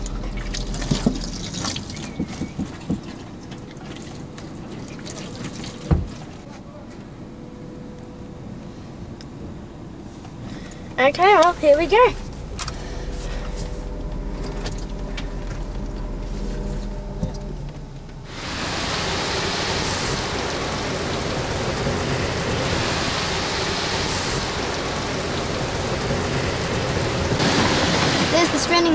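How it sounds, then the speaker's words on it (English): A car wash sprayer sprays and drips water on a car with splashing bursts, then a loud continuous hiss of high-pressure spray takes over for the last stretch; a voice speaks briefly. "There's the spraying machine, and there's the water sprayer."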